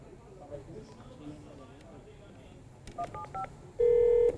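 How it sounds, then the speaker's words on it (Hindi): A few telephone dialing tones beep on a live TV news debate call, followed by a steady sustained ringing tone as the line connects, with a voice talking underneath. "घंटी जारी है, उन्हें इंतजार करते हैं फोन उठाने का"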